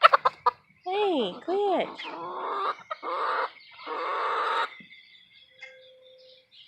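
Hens cluck in short bursts close by, with a person briefly speaking over them before it quiets down.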